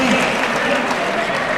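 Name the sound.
audience applause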